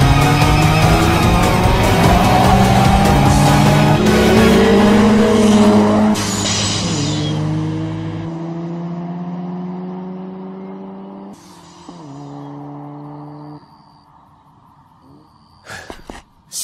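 Two anime racing cars, a Toyota AE86 and a Mazda RX-7 FC, screaming loudly at high revs through a drift battle, engine pitches rising and falling with tire squeal, then fading as the cars pull away into quieter passes.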